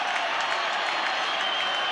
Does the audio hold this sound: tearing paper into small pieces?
no